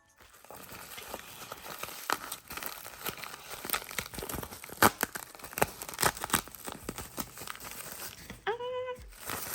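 Plastic packaging of a Littlest Pet Shop toy crinkles and tears in steady close bursts as it is opened, with a short whistle-like tone near the end.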